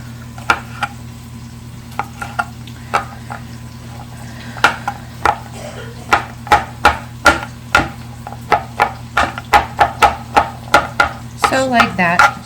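A knife chops mushrooms on a cutting board in a run of sharp, close taps. The taps are sparse at first, then come faster and more evenly, and cluster quickly near the end over a low background hum.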